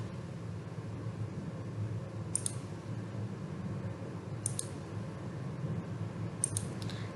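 Faint, sparse computer mouse clicks, three short crisp taps spaced a couple of seconds apart over a steady low hum of room or fan noise.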